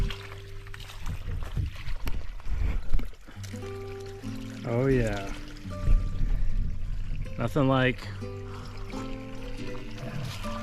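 Spring water from a private homestead spring pours out of a pipe into a small pond, a continuous splashing trickle heard under a man's intermittent speech.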